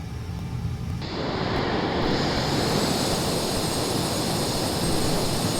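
F/A-18 Super Hornet jet engines throttling up to military power while braked on the runway at NAS Pensacola, rendered in Microsoft Flight Simulator: a loud, rising, steady roar that swells after a second and holds.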